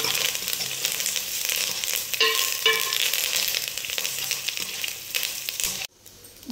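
Green chillies and curry leaves with a little cumin fry in hot oil, giving a steady crackling sizzle with faint stirring clinks, cutting off abruptly near the end.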